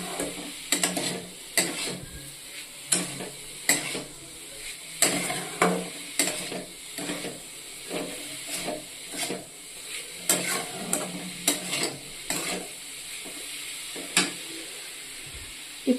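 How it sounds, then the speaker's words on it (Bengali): A spoon scrapes and stirs coconut laddu mixture in a pan, with repeated rhythmic strokes over a low, faint sizzle and no talking. "একটু পরপর কিন্তু নাড়াতে থাকবে জিনিসটা, নাহলে আবার লেগে ধরবে।"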